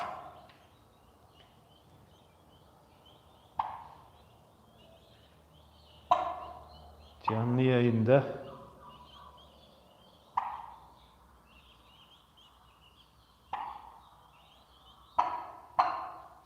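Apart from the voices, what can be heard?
turkeys gobbling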